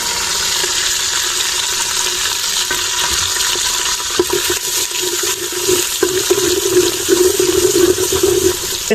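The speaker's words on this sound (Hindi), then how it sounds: "माशाल्लाह मक्खन गरम हो गया है तो लहसुन डालेंगे इसमें" Garlic is tipped into hot fresh butter in a pan for sarson ka saag, producing a loud, continuous sizzling hiss that rises and crackles more strongly toward the end, with no talking.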